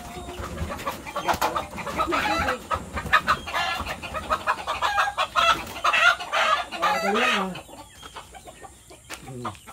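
Native chickens in a farm coop cluck repeatedly and steadily at close range, with a rooster-like call and scattered bird chatter mixed in, fading quieter toward the end.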